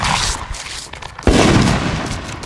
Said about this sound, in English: You gonna call the cops on us for lighting fireworks?